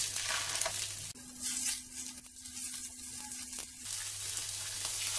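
A splash of oil sizzles in a frying pan turned up to full heat for cooking hake, a close, steady, loud hiss with crackling that holds throughout, slightly rising and falling.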